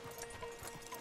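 Horse hooves clip-clop in a quick, even rhythm during a ride in the video game Red Dead Redemption 2, faint and distant.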